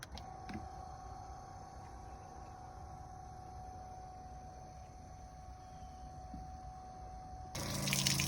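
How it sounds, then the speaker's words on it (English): A small electric pump hums steadily while water flows from a Jeep Wrangler JKU's 13.3-gallon onboard tank through an RV-style water port attachment, a constant low rushing close by that swells louder near the end. "turn the pump on."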